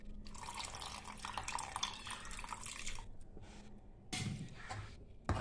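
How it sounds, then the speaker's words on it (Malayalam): Tamarind water poured into a simmering onion curry (ulli theeyal), a steady liquid splashing and trickling for about three seconds, then a short second burst of pouring after a pause. "ഇനി പുളിയും കൂടെ അതിലൊഴിക്കണം"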